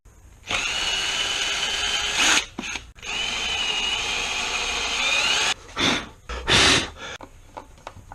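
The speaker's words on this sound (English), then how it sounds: "I'm just going to have to get a drill and just open up the holes a little bit." A power drill widens screw holes in a Fender Telecaster guitar body, whining loudly and close in several long runs of varying speed, separated by short pauses and clunks.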